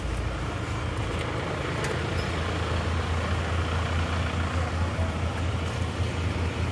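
A car engine idles steadily with the exhaust running, a constant low rumble held at a stationary idle from start to finish, loud and close with no voices.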